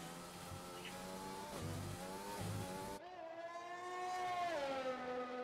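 Race car engine in a racing video game at Abu Dhabi, one loud sustained high-pitched tone that rises and falls as the car slides and its back end swings, with a sharp change partway through, no talking.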